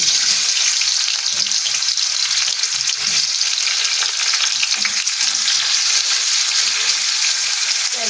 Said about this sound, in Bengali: তেল দিয়ে দিলাম আবার তেল কম করে কেটে নিয়েছি এবারে এগুলো পেঁয়াজগুলো কিন্তু দিয়ে